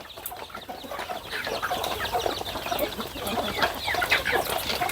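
A flock of free-range village chickens clucks continuously and fairly close, overlapping calls forming a dense, lively barnyard murmur with no talking.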